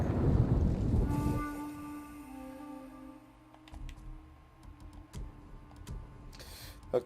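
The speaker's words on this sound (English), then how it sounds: "A chorus of raindrops." In the Ghost of Tsushima video game, a burst of thunder rumbles loudly at first, then steady rain patters while scattered sharp droplet ticks and soft taps continue over a faint sustained tone.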